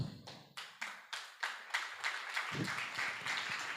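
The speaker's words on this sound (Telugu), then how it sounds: "గట్టి చప్పట్లు కూడా దేవుని నామమున గణపరుద్దాం" Congregation clapping loudly during a church worship service, a series of sharp rhythmic claps that build into sustained applause, close and loud with no talking.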